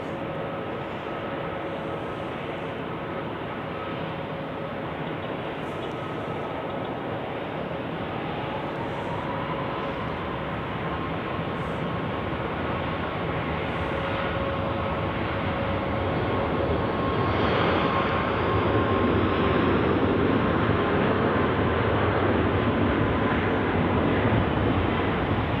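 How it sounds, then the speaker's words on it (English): Icelandair airliner taking off at Zurich Airport in winter, a broad, steady jet roar with a tonal engine whine that builds louder toward the end, heard from a distance outdoors with no talking. "For takeoff for Icelandair."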